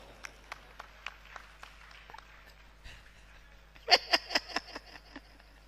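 A short burst of hand clapping from a comedy show audience, about five sharp claps near the end, following scattered quieter taps and faint background murmur.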